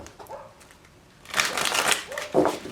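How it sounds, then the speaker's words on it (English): Tarot cards shuffled in two quick bursts of crisp riffling, near and clear, separated by a brief gap, with faint talk before them. "2 more shuffles for Aquarius, Sun, Moon, and Rising."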